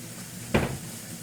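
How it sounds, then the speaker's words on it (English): A splash of water hits a hot pan of browning onions, garlic and squash, giving one short, soft sizzling hiss that quickly fades into quiet kitchen background. "one way that you can kind of slow down the process is to add a little bit of water in"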